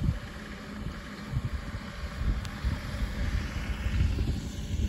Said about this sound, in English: comes Grant on the mighty John Deere, unloading